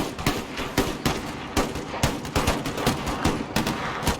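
Rapid volleys of gunfire from a Puckle gun in the Empire Total War video game, loud sharp shots in an uneven rhythm throughout with no talk.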